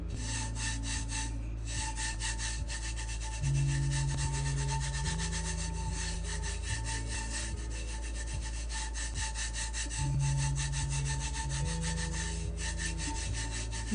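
Steady rhythmic rubbing of a skull, roses and weed template, a continuous scraping stroke repeating evenly and close up, with a background tone humming underneath and no talking.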